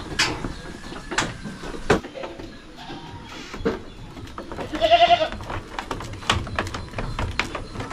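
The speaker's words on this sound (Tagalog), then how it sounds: "Naghihintay ng pagkain yung ating mga kambing." Hungry goats bleat while waiting to be fed at a farm, a few loud, wavering calls standing out over scraping and clattering noises, with no talking.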